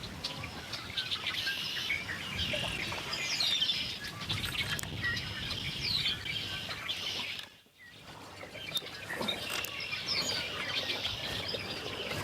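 Red-winged blackbirds sing in a chorus at a river outdoors, with steady overlapping chirps and trills mixed into a low background hum over the whole stretch, with a brief dip midway.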